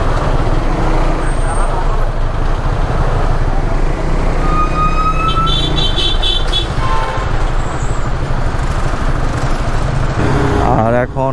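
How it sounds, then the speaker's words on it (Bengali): Heavy traffic jam at the Meghna–Daudkandi crossing in Bangladesh, with trucks and buses idling and rumbling close by in a dense, continuous low roar, a few brief horn tones and hisses rising over it. "এখানে প্রচুর জ্যাম"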